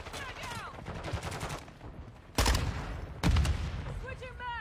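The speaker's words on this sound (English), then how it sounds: "They're shooting back out!" Video game gunfire crackles in repeated bursts, with two loud, dense volleys standing out over a busy background of game sounds and voices.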